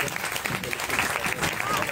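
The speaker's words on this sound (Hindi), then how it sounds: "आप लोगों के लिए खूब जोर से ताली बजाओ" Loud, sustained clapping from a large audience at a Bhagwat katha religious discourse fills the space continuously, dense and rolling, with a voice faintly underneath.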